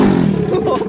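A Bajaj Pulsar RS 200 engine revving with its stock exhaust removed, a loud, raw, close-up roar in a single brief burst.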